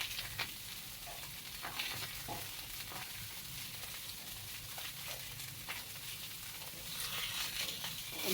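Fish frying in a pan of hot oil before dawn, a steady dense sizzle with occasional louder crackles and pops, continuous and fairly close with no voices.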